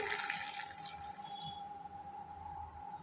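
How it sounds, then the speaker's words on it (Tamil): A mixed BCM malt health drink is poured out in a steady, continuous liquid stream lasting about three seconds, with no talking. "இத நல்லா மிக்ஸ் பண்ணி எடுத்து இப்படி ஊத்தினா நம்ம ஹெல்த் ட்ரிங்க் ரெடி"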